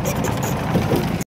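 A tractor engine idles close by, a steady low chugging rumble with rhythmic vibration that runs for about a second before cutting to silence.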